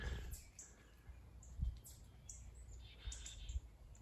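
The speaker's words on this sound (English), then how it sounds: "you hear birds freaking out" Birds chirping and calling in alarm in woodland, a scatter of short high tweets spread through the clip, fairly faint over a low outdoor rumble with a few soft thumps.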